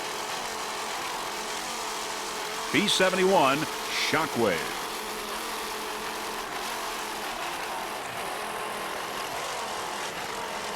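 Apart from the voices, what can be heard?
Bandit inboard powerboat racing engines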